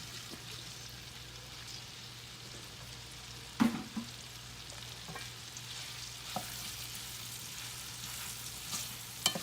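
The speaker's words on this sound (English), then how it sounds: "now we're going to go ahead and add it to our iron skillet with our oil" Food frying in oil in an iron skillet, a steady soft sizzle with a couple of sharper pops and a scrape, heard close and alone.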